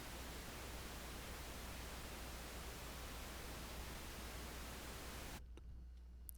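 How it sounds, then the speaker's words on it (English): Steady broadband hiss of pink noise plays evenly for several seconds, then cuts off abruptly, leaving near silence with a faint click at the end. "So I turn on Pink Noise"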